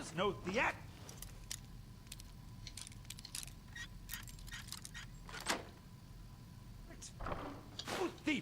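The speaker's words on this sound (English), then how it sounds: "Pick the locks on these two chests here." Lockpicking chests in Skyrim, a series of small metallic clicks and scrapes spread across the clip, close and fairly quiet, with a few louder ticks and brief bursts of other game noise in between.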